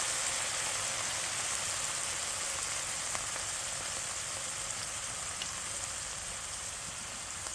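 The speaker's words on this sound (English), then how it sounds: "we're going to hit it with some red wine, some Cabernet. Basically it's going to deglaze the pan" A pan of beef braciole drippings sizzling after a splash of red Cabernet wine for deglazing, a steady hissing crackle like light rain, even and moderately quiet throughout.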